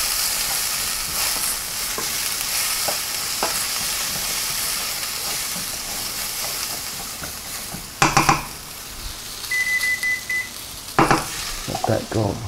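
Chicken cooking in a pan, with a steady broadband sizzle lasting throughout and a few louder clanks of utensils or pan near the end.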